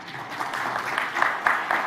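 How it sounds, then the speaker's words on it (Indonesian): Applause for musicians in a hall, a steady wash of many hands clapping at moderate distance, with a few sharper claps near the end and faint voices mixed in. "Tepuk tangan dulu untuk mereka dulu."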